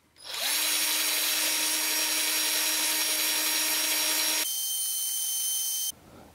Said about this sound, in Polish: Teraz w przyspieszeniu po prostu skupię się na wierceniu i zaraz sami zobaczymy,